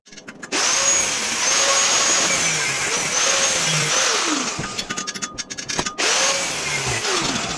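A handheld power tool cuts a metal jig for go-kart double wishbone suspension, a loud whining motor that rises and falls in pitch across several passes, with brief pauses and a stuttering stretch near the end.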